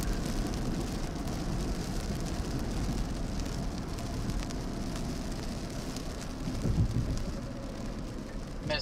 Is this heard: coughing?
no